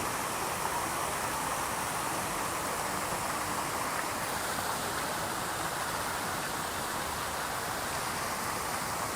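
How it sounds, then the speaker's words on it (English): The park fountain in Berczy Park, Toronto, gives off a constant broadband hiss of splashing, falling water. It is steady and fairly close, with no breaks or voices. "asleep to the sounds of the fountain"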